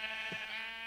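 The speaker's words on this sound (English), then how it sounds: "I apologize for my loud sheep outside." A single short sheep bleat, steady and harmonic, heard fairly close for about a second with no talking.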